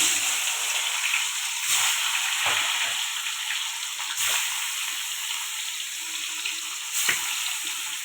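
Bhetki fish fries in hot oil in a wok, giving a loud, continuous hissing sizzle with a few soft knocks, heard alone without talk.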